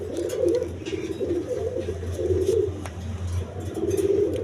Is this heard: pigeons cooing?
yes